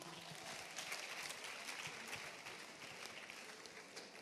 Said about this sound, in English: Can we now clap for him?